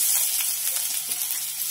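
Potatoes fry in oil in a pan with a steady, close sizzle that holds level throughout and has no talk over it.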